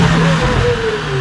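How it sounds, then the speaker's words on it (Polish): Mercedes-AMG GT 63 S E Performance 4-door with its biturbo V8 revved hard while parked, a loud close engine note rising and holding with a faint turbo whistle on top. "posłuchajcie jeszcze jak brzmi ta V8 z tej pozycji i nawet jak słychać świst turbosprężarki przy takim przegazowywaniu go na postoju"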